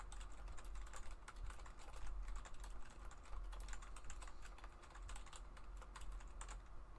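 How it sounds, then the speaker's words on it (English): Steady, rapid typing on a computer keyboard during a typing test, a dense run of crisp key clicks that continues throughout, close and clear with no talk. "Let's type something I should be studying."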